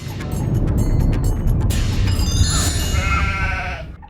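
A man turned into a goat bleats in a loud, wavering goat-like cry, close up, with a voice imitating the animal over a noisy background.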